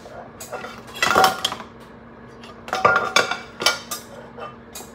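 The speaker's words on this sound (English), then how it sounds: "Let's do this gonna put on this pan" Metal cooking pan handled and set onto a stovetop, giving loud clanks and clinks in two bursts with scraping and rattling between them, close by and without talk.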